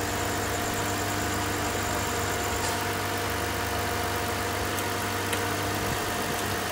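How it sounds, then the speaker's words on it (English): A 2008 Mitsubishi Pajero engine idles steadily with the air conditioning running after an expansion valve job, a constant close hum with a faint whine and no speech. "We start the engine and turn on the AC."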